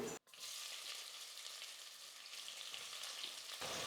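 Thinly sliced onions added to hot oil with whole spices for tomato biryani, sizzling and frying steadily. The sizzle is soft and continuous, with a brief dropout at the start and a faint stirring texture.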